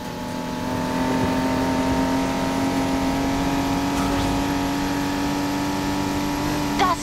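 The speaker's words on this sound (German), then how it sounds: "Ich liebe den Klang dieses Motors." A BMW i8 sports car engine in Need for Speed Heat drones and revs steadily at close range, a constant throaty hum with a brief rise near the end.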